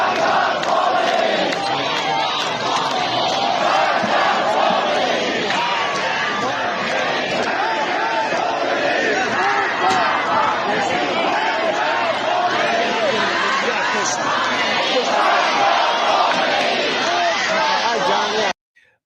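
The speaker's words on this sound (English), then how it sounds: "So they are all saying Marg bar Khamenei, which means death to Khamenei" A huge protest crowd in Iran chants in unison, a loud, dense roar of many voices with rhythmic swells and shouted slogans that continues for about nineteen seconds before cutting off abruptly.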